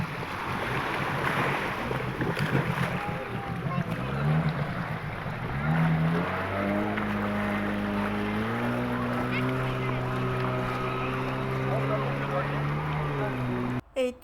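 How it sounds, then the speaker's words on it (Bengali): A boat's motor drones steadily over open water near Pangkor Island, Malaysia, approaching to pick up passengers, its tone shifting as it nears, with wind buffeting the microphone and waves in the background. "এই তো আমাদের বোটটা আমাদেরকে নিতে চলে এসেছে"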